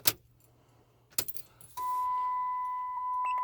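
A key turns in the ignition of a 2006 Ram Hemi: keys jangle briefly at the start and again a second later, then a steady electronic chime tone switches on and holds to the end, fairly quiet, no talking.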